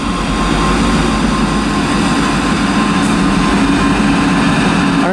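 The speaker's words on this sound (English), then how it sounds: "next train to arrive is the 1351 Transpennine Express service from Manchester Airport to Newcastle" A Class 185 TransPennine Express passenger train running into Durham station on the East Coast Main Line, loud and close, its steady engine drone and wheel roar filling the whole stretch with no voices.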